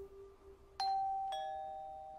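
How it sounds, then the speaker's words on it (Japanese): A two-tone ding-dong doorbell chime rings once inside the Wii horror game Ju-On, clear and fairly loud against a quiet, low background hum, with the second note following shortly after the first and fading slowly. "ピンポン嫌いなんだよ"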